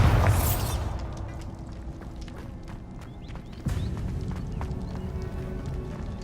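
A Bombarda blasting spell from Hogwarts Legacy goes off with a loud, broad burst right at the start and quickly fades into quieter game ambience with light, clopping footstep-like taps. The background steps up in level partway through.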